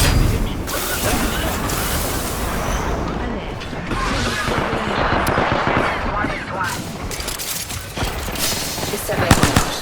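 Video game firefight as an enemy squad attacks, with dense bursts of automatic gunfire and booms, loud and near, continuous through the clip, over the background sound of play.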